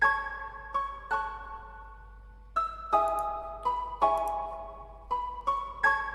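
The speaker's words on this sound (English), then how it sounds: "later on in the sample I have the mallet pitched up 1 octave" Mallet one-shot pitched up an octave in FL Studio, struck in a sparse melodic pattern of bright, bell-like tones with short reverberant tails, a gap of silence midway, then quicker repeated hits; no talking.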